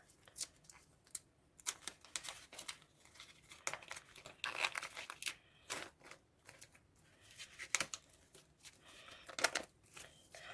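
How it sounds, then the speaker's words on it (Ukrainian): Crinkling and tearing of a small paper surprise packet being opened, close up, in short irregular bursts with brief pauses. "Ну і відкриваємо такий пакетик."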